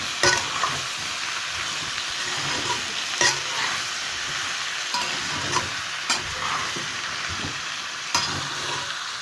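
Soybean curry sizzles steadily in a frying pan as a spoon stirs it, knocking against the pan every second or two, with no talk.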